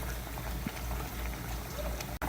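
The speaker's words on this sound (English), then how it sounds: "this has been boiling for 5 minutes on high heat" Fish simmering with tomato in a coconut milk gravy, boiling on high heat in a pot, gives a steady, close bubbling hiss that runs throughout with no pauses.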